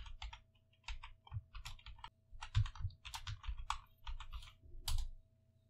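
Rapid keystrokes on a computer keyboard as a master password is entered into the LastPass password manager, a close, uneven run of clicky taps in short bursts with brief pauses.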